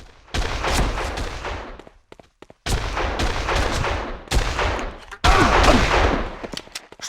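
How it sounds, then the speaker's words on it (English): Sniper and rifle gunfire in the PS2 game Made Man comes as loud, dense bursts of shots separated by brief gaps, with rapid crackling volleys near the end. "Snipers, commence fire!"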